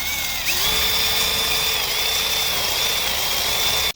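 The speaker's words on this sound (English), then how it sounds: "I'm gonna drill this hole out a little bit." A unibit step drill bores out a hole for an HVAC fitting, a steady, loud whining drone that holds evenly for nearly four seconds before cutting off.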